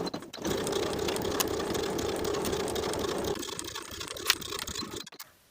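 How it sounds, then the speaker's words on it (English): A sewing machine stitches the center back seam of a cardigan (Simplicity 8742 pattern) in one steady, close whirring run for about five seconds, then stops. "Sew the center back seam from top to bottom with a 5/8 inch seam allowance"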